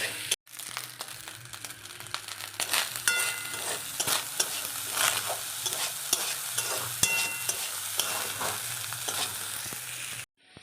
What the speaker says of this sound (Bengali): এটাকে হালকা ফ্রাই করে দেবো